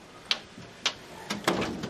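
A door being shut indoors in a domestic drama scene, heard as a few soft knocks and clicks over a quiet room background, with no talking.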